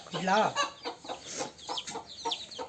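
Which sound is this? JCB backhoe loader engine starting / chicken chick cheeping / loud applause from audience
chicken chick cheeping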